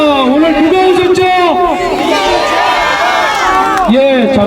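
A dense crowd cheers and calls out at an outdoor political party rally at a Paju train station, a loud continuous roar with shouts and whoops, mixed with overlapping voices throughout.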